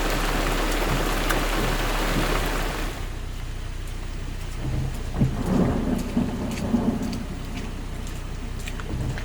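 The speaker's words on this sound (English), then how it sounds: "so obviously it's raining, but let's do it." A heavy thunderstorm with steady rain pouring on surfaces and low rolling thunder, loud and continuous, the downpour dense at first and then slightly muffled, with rumbles swelling midway.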